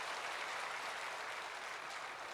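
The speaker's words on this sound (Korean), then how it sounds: "박수로 맞이해 주시기 바랍니다." A church congregation applauds to welcome missionaries during a Sunday worship service, a steady, faint wash of clapping that holds evenly throughout without any voices over it.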